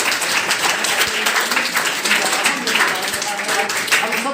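Loud, sustained applause from a crowd gathered for an Ambedkar Jayanti celebration in a village, continuous close clapping filling the whole stretch with even intensity.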